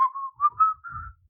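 A person whistles a short tune of four or five clear notes, gently rising in pitch, close and alone, lasting just over a second.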